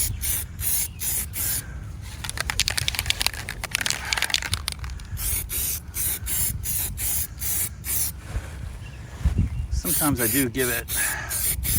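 Spray gun laying primer onto Sling TSi aircraft wing skins, a series of short and longer close hissing bursts with brief pauses between them, and a person talking quietly at one point.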